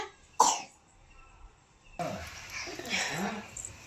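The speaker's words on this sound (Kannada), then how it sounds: "ಕೆಮ್ಮು." A single sharp cough near the start, followed after a pause by a person talking nearby.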